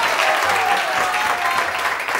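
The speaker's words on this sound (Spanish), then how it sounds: "¡Aplaudan, por favor, esto!" Studio audience applause on a television show, a full, continuous round of clapping that stays loud and dense from start to finish.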